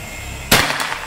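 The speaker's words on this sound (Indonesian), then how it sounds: "Kita lanjut lagi ke tembakan yang keempat" A single close, sharp crack from an Escobar PCP air rifle firing in an accuracy test, with a brief echo trailing off.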